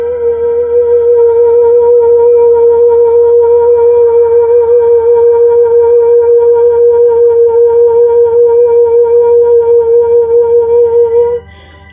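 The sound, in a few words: sustained sine-like meditation tones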